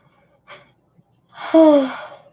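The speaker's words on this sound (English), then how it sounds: "I always yawn." A person gives a single drawn-out, voiced yawn, starting with a short intake of breath and sliding down in pitch, close and fairly loud.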